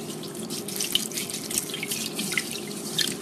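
Rice is rinsed under running tap water in a sink to wash away starch, a steady close splashing and trickling with small drips and swishes throughout.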